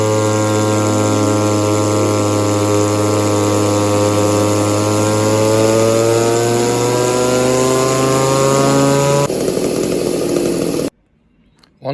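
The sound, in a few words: Echo 2511 clone chainsaw engine revving on dyno with muffler mod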